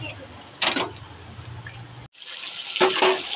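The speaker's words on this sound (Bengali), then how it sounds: "মাছগুলো ভাজতে দেওয়া হয়েছে, মাছগুলো আস্তে আস্তে ভাজা হোক।" Fish fry in oil in a wok, giving a steady hissing sizzle that cuts off briefly partway through, then returns louder with bursts of spitting.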